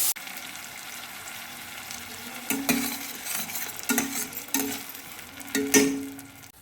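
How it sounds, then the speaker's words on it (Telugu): Tomato paste fries with cashews, ginger, green chilli and curry leaves in a pan for tomato rice, a steady close sizzle broken by several louder bursts of spoon stirring and scraping against the pan. "పచ్చిమిర్చి కూడా వేగాక టమాటా పేస్ట్ వేసేసుకొని వేగించుకోవాలి"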